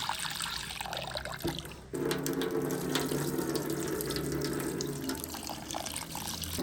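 Water runs from a tap as urad dal lentils are washed, with a steady close splashing stream, a short break and then heavier flow and rinsing.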